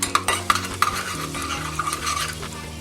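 Two dried red chillies frying in a spoonful of butter in a small pan, stirred with a metal spoon: several sharp clinks and scrapes at close range over a light sizzle.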